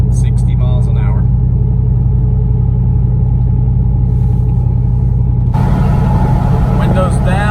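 Atturo TrailBlade MT mud-terrain tires after rotation, heard from inside a car with the windows up at about 60 mph: a loud, constant low drone and rumble that fills the cabin, with a brief louder hiss near the end.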